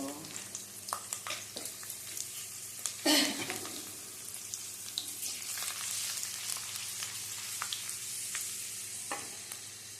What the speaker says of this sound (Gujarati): હવે એમાં આપણે 10-15 કળી લસણ નાખીશું.